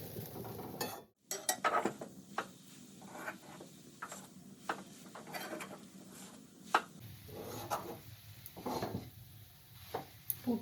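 A spoon scrapes and stirs grated coconut and melting jaggery in a pan, making a quiet, irregular run of rubbing and soft knocking strokes. The strokes continue on their own, with no talk.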